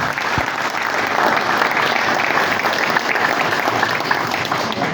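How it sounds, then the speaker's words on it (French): A crowd at a political event gives loud, continuous applause, a dense wash of clapping holding steady throughout with faint voices underneath. "On l'applaudit, chers amis, on l'applaudit"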